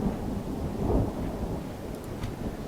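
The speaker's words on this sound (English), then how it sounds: "Damn this rain." Steady rain in the battle game Third Age Total War, a dense wet hiss with a low rumbling undertone, constant and without speech.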